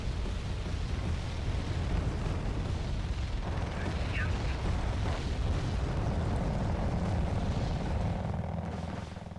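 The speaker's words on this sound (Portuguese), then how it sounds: "a nossa artilharia também está a trabalhar bem" Artillery fire rumbling through the video game Wargame Red Dragon, a dense, continuous roar of distant booms and explosions filling the whole stretch with little variation in loudness.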